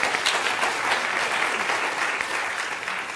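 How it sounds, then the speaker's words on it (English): Audience applause at the closing of an afternoon panel, steady dense clapping from a full room throughout, no talking over it. "So let's clap for them."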